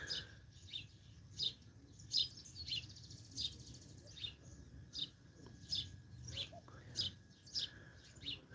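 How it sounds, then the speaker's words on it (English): Weaver birds sing in a drought-stricken garden, with repeated sharp chirps and trills at a steady rhythm over a faint low background hum, fairly close and moderately loud. "So in my videos you can always hear the birds singing and making so many noises."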